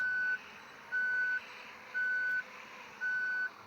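Steady reversing alarm on a bus backing up in Bus Simulator Ultimate, four evenly spaced beeps over a low engine drone, clear and close with no talk.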